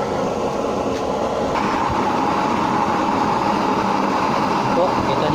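A DIY oil burner running in LPG mode gives off a loud, steady roaring rush that continues unbroken from start to finish, with someone talking over it.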